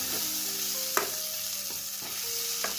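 Green pea paste sizzling in mustard oil in a kadai, a soft continuous frying hiss broken by a few sharp spatula scrapes and taps at irregular intervals, with no voices.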